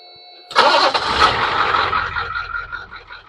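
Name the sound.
engine starting back up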